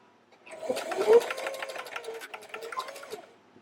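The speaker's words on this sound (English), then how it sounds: "don't forget to back stitch, like so" A sewing machine back stitches a fabric wristlet keychain, a close, steady mechanical whir with a rapid needle rhythm that runs for about three seconds before stopping.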